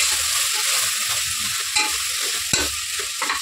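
Tomatoes and turmeric frying in a pan for drumstick dal, giving a steady close sizzle with soft stirring scrapes and a sharp clink near the end, no voices present.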